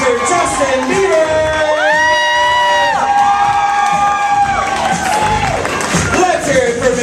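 Loud cheering from a nightclub audience at a male revue show, with whoops and high shrieks rising over a continuous crowd roar and a speaking voice mixed in.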